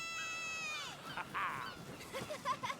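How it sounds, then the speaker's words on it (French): Gulls calling in the video game A Plague Tale: Requiem, a few honking, goose-like cries rising over ambient game sound, fairly close and loud, with a voice speaking briefly alongside. "C'est des goélands."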